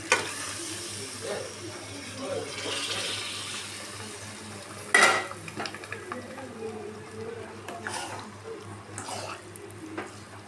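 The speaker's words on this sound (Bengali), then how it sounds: "এবার আমি এর মধ্যে ডালটা দিয়ে দিচ্ছি।" Lentils (dal) tipped into hot oil and spiced masala in a pan while cooking an egg chicken tadka, giving a soft steady sizzle with one sharper burst of crackling and light stirring scrapes, heard close with no talking.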